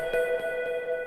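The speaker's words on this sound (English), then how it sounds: "For the lead melody, I've made this really cute pluck" A bright synth pluck lead made in the Vital synthesizer, with an EQ cutting the lows, plays a short melodic phrase of a few sustained notes, clear and alone.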